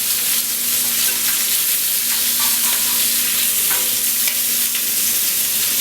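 Shrimp fry in a very hot pan with a loud, constant sizzle and hiss that carries on without a break, close up, with no one speaking.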